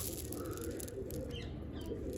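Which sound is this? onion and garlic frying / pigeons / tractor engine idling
pigeons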